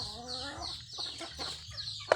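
Backyard chickens cluck steadily while they are fed leftover rice and a little corn. A run of close, overlapping calls ends in one sharp, loud peck or knock.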